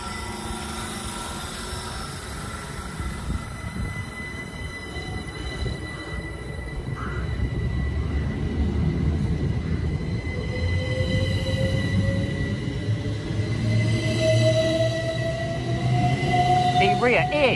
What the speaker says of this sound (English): Departing out now is the 1335 Great Western Railway service from London Paddington to Didcot Parkway.